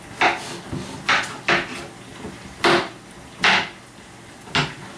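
A knife chops zucchini into small chunks on a wooden cutting board while oxtail soup is being made: six sharp, separate thuds at uneven intervals, close and clear, with no talking.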